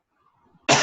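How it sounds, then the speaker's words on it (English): A single sharp cough lands at the very end, close and fairly loud, after near silence. "sorry, I keep coughing."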